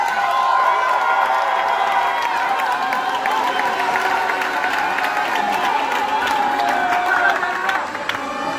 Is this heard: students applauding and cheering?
yes